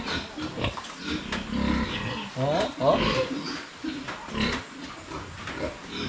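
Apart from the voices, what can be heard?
pig grunting on a farm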